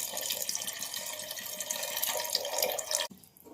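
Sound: tamarind water poured into a curry pan

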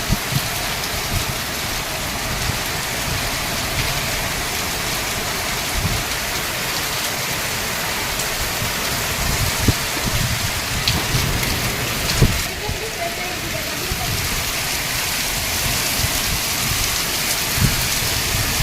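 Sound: heavy rain

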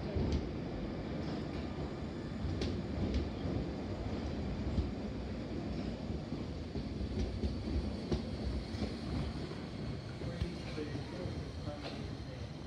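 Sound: slow train passing Harrow and Wealdstone station

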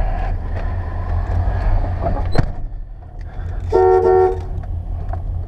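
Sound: car horn of a 1989 Chevrolet C/K 1500 pickup truck

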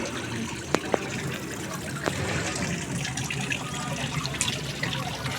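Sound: water trickling in a restaurant fountain

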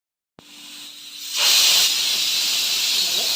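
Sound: pressure cooker whistling while cooking

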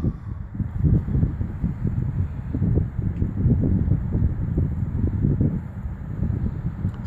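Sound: strong wind blowing over the football field

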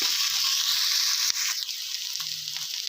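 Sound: potatoes frying and being stirred in a pan

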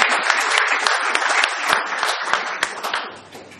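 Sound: audience applause for a speaker

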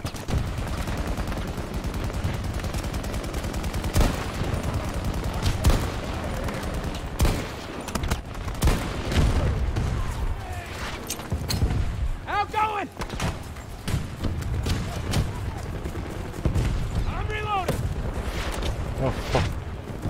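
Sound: gunfire in Battlefield 2042 video game

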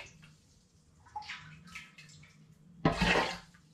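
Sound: ladling water in a big heavy pan for blackberry cider

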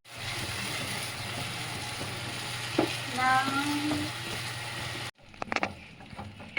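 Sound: stirring frying eggplant mash with Kashmiri chilli in pan

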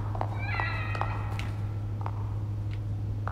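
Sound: cat meowing in video game The Evil Within DLC

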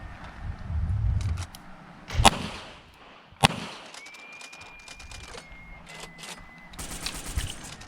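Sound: double-tap revolver gunshots, Smith & Wesson, cowboy hip shooting

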